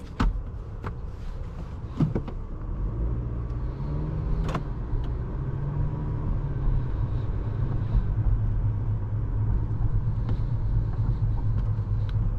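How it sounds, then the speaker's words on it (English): A 2021 Acura TLX front-wheel-drive sedan on the move, heard from inside the cabin as a steady low road and engine rumble with a few faint clicks. No one speaks. "Let's go for a quick drive in this car."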